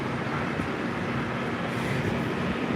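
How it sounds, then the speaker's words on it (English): A 7000 series metro train on the Silver Line, its steady, loud rumble and rolling noise continuous throughout with no talking. "there's a 7000 series train."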